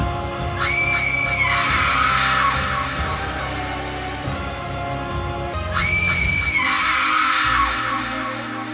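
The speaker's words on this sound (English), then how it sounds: "The scream sounded out once more in the night, and I heard it once more." Two long, piercing screams ring out in a dark, atmospheric soundscape for a Castlevania: Symphony of the Night comic, each rising loudly over a low rumbling background and separated by a few seconds of quieter ambience.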